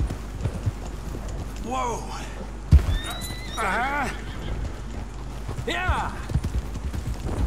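Horse hooves clip-clop and a horse neighs and whinnies several times in Red Dead Redemption 2, with short spoken exclamations in between and game ambience underneath.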